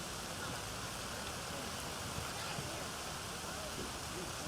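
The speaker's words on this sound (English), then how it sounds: "You can see it's raining pretty hard now." Heavy rain pours steadily at an outdoor cross country race in the Mount Hood Conference, a dense, even hiss that fills the whole stretch without a break.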